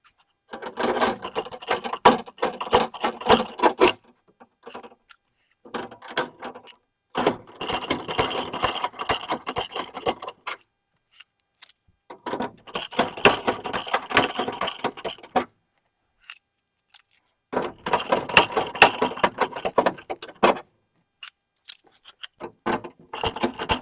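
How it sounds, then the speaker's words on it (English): Rivets being set into the rear door of a lawn mower during reassembly: four bursts of rapid metallic clicking and clacking, each a few seconds long and separated by short pauses, close and fairly loud, with no talking. "We can go ahead and finish putting all of our rivets in."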